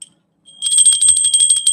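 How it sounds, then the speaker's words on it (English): A small bell rings in a rapid trill after a brief silence, a bright, close metallic jingle repeated quickly until the end, heard alone. "we'll ring a bell. How about that?"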